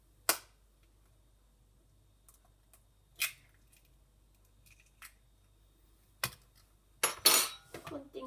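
Two eggs are cracked into a bowl in a home kitchen. A few sharp, isolated taps and clicks sit in near silence, followed by a brief louder clatter at the end.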